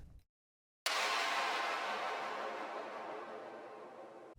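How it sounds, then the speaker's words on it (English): A noise down effect from an Ableton Live production of The Weeknd's "Blinding Lights" bursts in after a brief silence as a loud wash of white noise that slowly darkens and fades over about three and a half seconds. "it's followed by this noise down effect."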